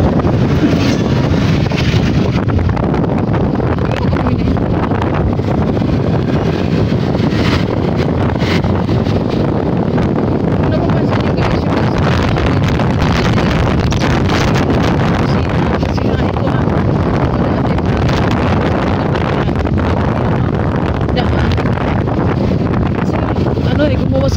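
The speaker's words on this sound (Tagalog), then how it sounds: "So mahangin na dito at maray." Steady, loud wind buffeting the microphone with a constant broadband roar throughout, and traffic or engine rumble mixed underneath.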